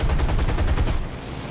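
Aircraft machine guns in War Thunder fire a rapid, loud burst of evenly spaced shots for about a second, then cut to a lower rumble.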